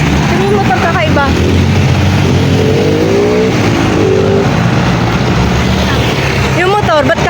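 A nearby motocross motorcycle engine drones and revs loudly in a street near a Baguio marketplace, continuous throughout, with people talking over it.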